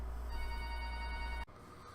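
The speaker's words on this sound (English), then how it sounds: "Oh, we're getting a phone call." A telephone rings during a podcast recording, a single faint electronic ring tone that sounds steadily for about a second and a half and then cuts off abruptly.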